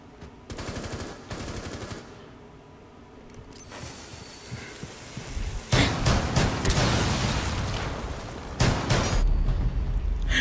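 Gunfire from the tactical shooter Rainbow Six: Siege during a hostage round: loud bursts of automatic shots with booming impacts, sparse at first and then a dense, sustained volley in the latter half, with no talking.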